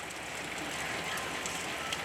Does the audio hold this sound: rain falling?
yes